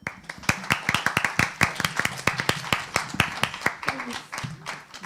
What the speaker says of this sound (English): Another round of applause for our finalist teams.